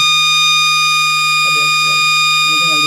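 A loud, steady electronic alarm tone from a generator set's emergency stop runs continuously throughout, while someone talks briefly beneath it in the second half.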